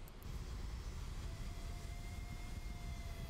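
Supersonic jet aircraft flying near Mach 1 in Kerbal Space Program 2, heard as a faint, steady low engine rumble and rushing roar with a thin sustained whine above it, unbroken and without voices.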